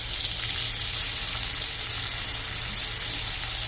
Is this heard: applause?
no